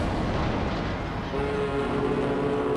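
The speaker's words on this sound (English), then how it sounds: "the foghorn sound effect in for when people ram you or you ram other people now" A foghorn sounds in the naval battle game World of Warships when ships ram each other, a low sustained horn tone entering partway through over heavy in-game rumble and battle noise.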